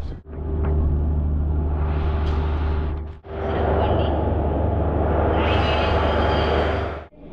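A Tiruchirappalli Special Fare Express train sits at a station, with a steady loud rumble and low engine hum running throughout, briefly dipping twice before resuming, no talk over it.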